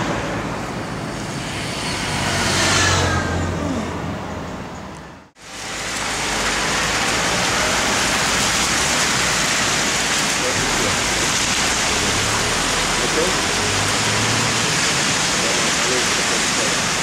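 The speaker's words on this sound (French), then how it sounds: "En plus il commence à pleuvoir." Rain falls steadily beside a road while hitchhiking, a loud continuous hiss that swells and eases and drops out briefly partway through.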